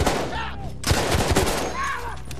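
Gunfire in the World War I shooter Battlefield 1: a dense, loud burst of rapid shots and bangs, close and continuous, with excited voices faintly over it.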